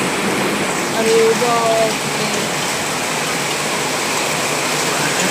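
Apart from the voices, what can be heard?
unseasonal heavy rain with hailstorm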